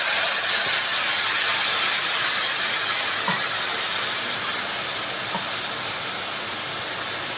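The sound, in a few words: soaked spice paste sizzling in hot pan with tomato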